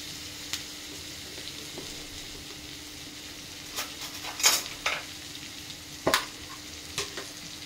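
Onions frying in a pan for an onion and chicken-egg curry, a low steady sizzle with a few sharp scraping stirs of a spoon against the pan, close and clear with no talk.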